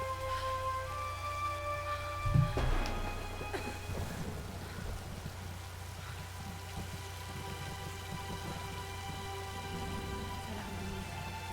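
Steady rain in a video game hisses over a low rumble, with a heavy thunder crack early on fading into a continuous downpour and faint tonal hum.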